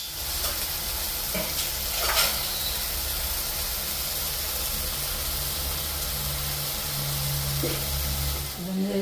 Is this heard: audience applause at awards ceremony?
no